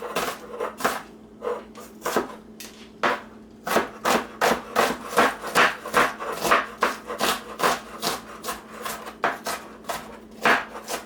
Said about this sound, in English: we'll start chopping on the onion